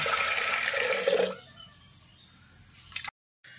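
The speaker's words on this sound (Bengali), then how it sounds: "তারপর জল দিয়ে দিচ্ছি" Water pours into a pot of chana dal seasoned with salt and turmeric, a loud rushing stream for over a second that then fades to a quiet trickle before a brief cut.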